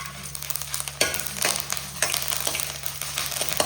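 Hot oil crackles and sizzles loudly as garlic and curry leaves fry and are stirred in the pan, with sharp bursts and a faint steady hum behind.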